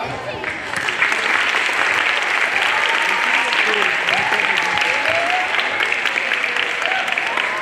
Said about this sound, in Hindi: उतनी ही तेज तालियों की गड़गड़ाहट